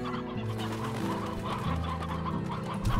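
Painted chickens in the video game Slime Rancher cluck continuously in a busy flock, a layered, fairly soft stream of overlapping calls with no voices over them.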